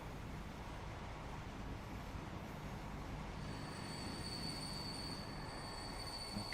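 A video game train running on a freight line, heard as a steady, fairly quiet rolling rumble with faint high wheel squeal, alone without talk.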